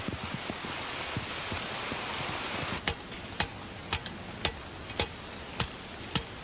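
Steady rain falls outdoors in a muddy field, a dense hiss of drops with sharp intermittent ticks and taps becoming more distinct in the second half, no voices.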